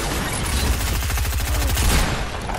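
Rapid gunfire from a shooter video game rattles in a dense, continuous fusillade, loud and close throughout with heavy low booms beneath.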